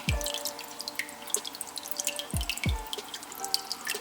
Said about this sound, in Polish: Teraz dopiero zassał wodę.